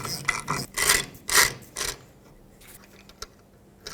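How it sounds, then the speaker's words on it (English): A reverse-threaded ring is worked off a Ford F-250 rear wheel hub, giving a series of short rasping, clicking ratchet bursts close up, then quieter scattered clicks as the turning pauses. "It's going to make ratcheting noises the whole way around."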